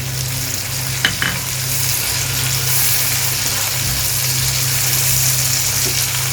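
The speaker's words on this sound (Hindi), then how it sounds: "ये देखिए ये तीनों चीज़ें अच्छे से भूनने जा रही हैं" Onions, crushed green chilies and spices for an aloo anday salan fry in a pan with a loud, steady, close sizzle and a few stirring knocks along the way, and nobody speaks.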